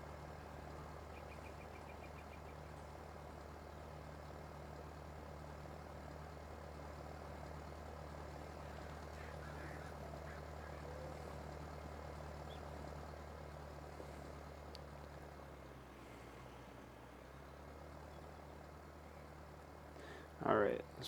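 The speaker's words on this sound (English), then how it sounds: "this tractor is pretty fast for hauling wagons" A tractor hauling wagons in Farming Simulator 19 gives a steady low engine drone that hums evenly for a long stretch, dips briefly, then ends with a short louder burst.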